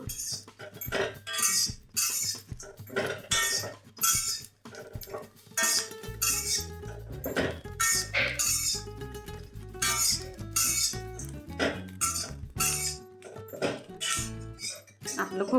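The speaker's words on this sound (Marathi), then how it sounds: "थोडंसं गुलाबी रंग होईपर्यंत भाजून घ्यायचं." Grated coconut dry-roasting in a pan, with a spatula clinking and scraping against the metal in steady, close, fairly loud strokes throughout.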